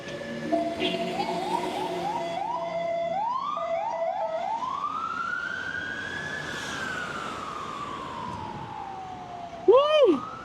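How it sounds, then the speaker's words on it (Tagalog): An ambulance siren wails on a city road near Eastwood, Marikina and C5 while a commuter rides an e-MTB, its rising and falling tone sweeping over steady traffic and wind noise before a loud burst close by near the end. "Merong ambulansya."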